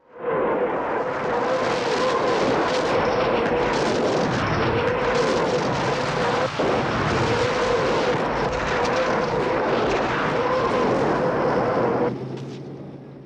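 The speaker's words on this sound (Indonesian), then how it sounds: "Katyusha yang mengirim salvo membabi buta" A Katyusha rocket artillery salvo fires in wartime as a loud, sustained roaring whoosh of launches, one after another without a break, for about twelve seconds before cutting off, with no voices.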